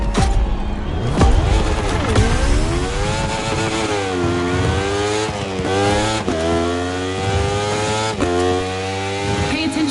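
Racing motorcycles in The Crew Motorfest scream close and loud, their engines rising through the revs and dropping at each gear change, over and over, with faint tire and road noise beneath.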